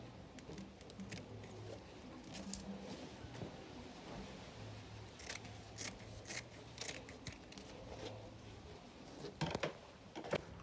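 Scissors snip through gele fabric in a series of crisp, irregular cuts, close and fairly quiet over a steady low hum, with a few sharper snips clustered toward the end.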